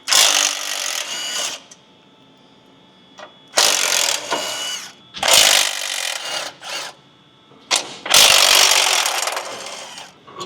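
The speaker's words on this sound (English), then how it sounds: "Now we have the last nut coming off of this welded together stud." Final nut spun off a welded stud on a 2020-2022 Ford Super Duty with a power tool, several loud bursts of ratcheting whir separated by quiet pauses, close by.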